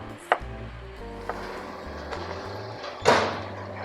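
A kitchen knife slices vegetables on a board for smoked oxtail, giving a few separate, crisp cuts spaced out over a few seconds with a low steady hum behind them.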